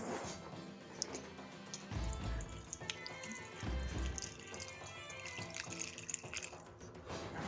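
Water runs and splashes into a cooking pot for a vegan corned beef with cabbage, potatoes and carrots dinner, a continuous close pour with bursts of gurgling and faint clinks.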